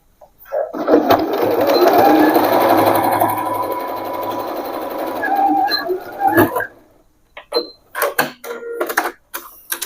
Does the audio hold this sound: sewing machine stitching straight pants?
yes